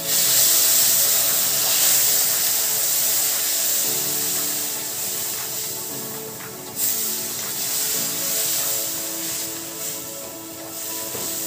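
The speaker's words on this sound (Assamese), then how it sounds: "এতিয়া গুড়ৰ পানীখিনি অলপ অলপকৈ দি দিম।" Jaggery water poured into hot suji halwa hisses and sizzles loudly, a sustained bubbling steam that eases and swells again partway through.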